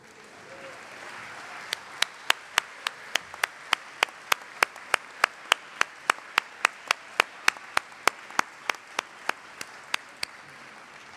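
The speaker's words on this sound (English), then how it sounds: "receive a round of applause from the graduates with thanks for your support" Graduates at a college commencement ceremony clap for their families and friends in a sparse, regular rhythm, each sharp clap distinct and moderately distant in a large space, gradually tapering off.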